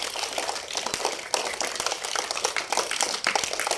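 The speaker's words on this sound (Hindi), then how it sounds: "सब अपने लिए भी तालियां बजा लो।" A classroom of children claps for themselves in a lively, uneven burst of many hands close by, steady throughout with a few louder slaps.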